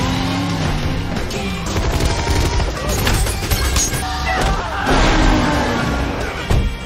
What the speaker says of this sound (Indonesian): terjadilah aksi kejar-kejaran dan tembak-tembakan